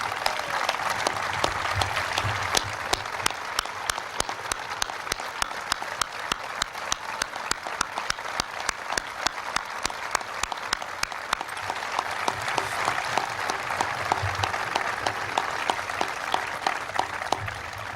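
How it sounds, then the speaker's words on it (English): Sustained applause from a large gathering at a presidential budget bill signing ceremony as members of Congress stand, steady dense clapping holding evenly throughout. "to stand and to receive a round of applause"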